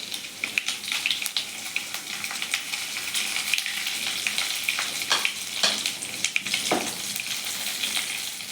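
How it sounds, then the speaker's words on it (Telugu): Chana dal, cumin seeds and dried red chillies fry in hot oil in a pan, giving a steady close sizzle with scattered crackles and pops throughout. "ఇవి కొంచెం దూరగా వేగనివ్వాలి"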